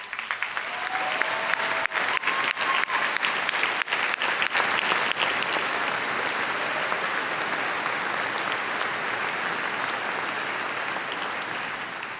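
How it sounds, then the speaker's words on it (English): A commencement audience at a high school ceremony gives school district employees a round of applause: loud, dense clapping that swells, holds, then slowly fades out. "audience, could you please give them a round of applause?"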